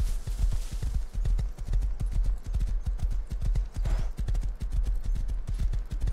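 Horse hooves clip-clop in the survival video game Rust, a fast, steady run of close thuds, loud and rhythmic throughout with no talking over it.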